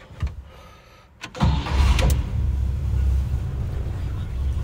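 A 1957 Pontiac Star Chief Safari two-door wagon's engine cranks briefly, then catches and settles into a loud, steady idle close by.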